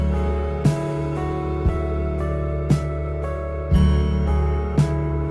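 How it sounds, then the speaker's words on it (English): Electric guitar played through a Magnatone amp with its distinctive vibrato, sustained chords wavering in pitch, with several sharp picked attacks spaced about a second apart, loud and alone. "Everybody knows the vibrato is super unique in these"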